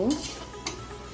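Bitter gourd frying over high heat, a short burst of close sizzling with a couple of stirring scrapes against the pan.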